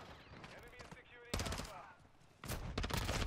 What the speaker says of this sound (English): Freaking shotgun, bro.